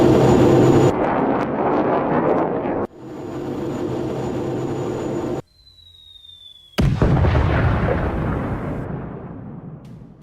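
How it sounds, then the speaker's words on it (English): Glide bomb strikes on buildings in a video game set off heavy explosions, each a loud burst followed by a long rumbling decay, with a whistling descent heard before the final blast. "Bomb hits the buildings, resulting in massive detonation."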